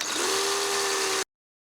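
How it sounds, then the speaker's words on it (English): Drill with a 1/16 inch bit boring into a poplar board, a close, steady whirring burst of about a second with a rising tone, then abrupt silence. "using a 1/16 inch drill bit, I'm going to drill about halfway through my project at both hole locations"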